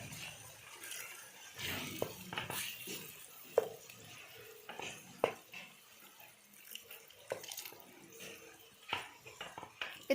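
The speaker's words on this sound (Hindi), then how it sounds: "हमने इसमें थोड़ा सा पानी डाल देने" Water is poured into a pan of minced meat for aloo matar qeema. Uneven splashing and trickling come with a few sharp clinks from the pan, close by and with no talking.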